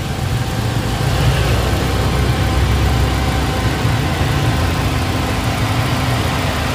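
A 2016 Suzuki Ertiga GL with a manual gearbox idles steadily at close range, its low engine rumble and vibration holding an even, continuous drone with no speech.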